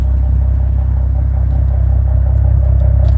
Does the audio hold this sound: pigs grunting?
no